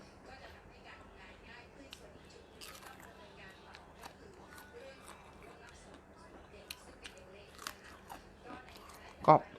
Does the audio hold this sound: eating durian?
yes